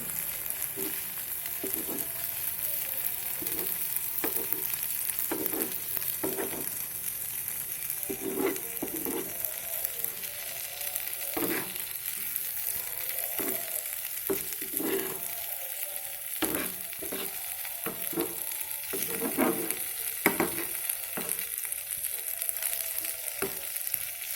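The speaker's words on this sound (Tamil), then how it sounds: "இப்போ வந்து லைட்டாக வந்து கிளறி விட்டுக்கலாம்" Poured egg stirred lightly in a frying pan for a quick side dish, a steady sizzle running throughout with repeated scraping strokes of the spoon at a regular pace, close and moderately loud, with no talk.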